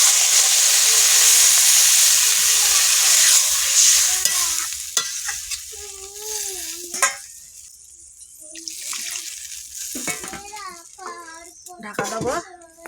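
Water poured onto cauliflower and potato frying in a pan sets off a loud, hissing sizzle that fades over several seconds, followed by quieter bubbling and clinks as voices, including a child's, talk nearby.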